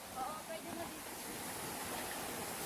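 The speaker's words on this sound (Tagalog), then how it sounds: "ayan na ang falls. Narinig nyo na, guys. Ang nagaslas ng tubig." A waterfall on a hiking trail gives a steady, loud rush of falling water, a continuous broadband roar with no voices over it.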